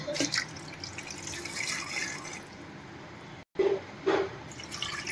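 Water pours into a cooker holding potato pieces and salt: a soft, quiet trickle and splash that briefly cuts out, then returns with a couple of short gushes.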